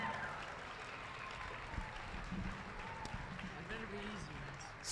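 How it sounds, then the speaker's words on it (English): Crowd at a Grayson County basketball rally giving a round of applause, a steady wash of clapping and cheering in a gym, fairly distant and under speech. "Let's give a round of applause to Brody Armstrong."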